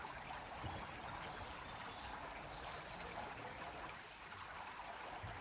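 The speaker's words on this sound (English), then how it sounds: "Nothing more relaxing than the sound of water." Water running steadily beside a walking path outdoors, a continuous close, even rush and trickle of a stream with no talking throughout.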